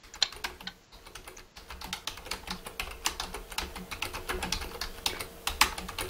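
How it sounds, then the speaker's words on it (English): Fast, steady clatter of typing on a computer keyboard, close and distinct, with dense irregular keystrokes running continuously and only a brief pause, no voices. "I'm just typing a message to everyone because you were talking."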